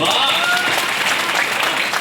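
An audience claps loudly in welcome for a poet at a poetry gathering, a dense, steady burst of applause that carries on throughout.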